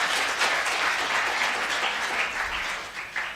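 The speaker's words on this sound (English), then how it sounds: "I would like everybody to really give a big, big, big round of applause" Audience at a conference closing session gives a steady, fairly close round of applause, dense clapping that continues throughout and tapers slightly near the end.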